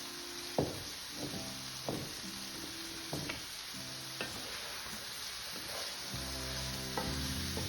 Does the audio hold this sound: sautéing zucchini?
yes